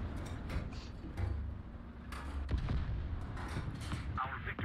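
Tank cannon shots in War Thunder, a Pz. IV H firing during a battle, heard as heavy booming blasts over a constant rumbling engine drone, with a short voice in the mix.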